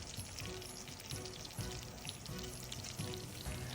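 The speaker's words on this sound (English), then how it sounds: "Sear the riblets until both sides are browned." Pork riblets sear in a dry skillet for sweet and sour ribs, giving a steady, moderately quiet crackling sizzle with small spitting pops throughout.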